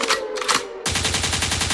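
A gunshot sound effect in a rap music show bursts out as a loud, rapid string of repeated shots like automatic fire, following a brief musical snippet.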